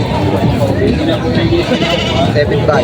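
Native Tagalog goats at a livestock market in Padre Garcia, Batangas, bleating close by amid busy talking voices and market chatter.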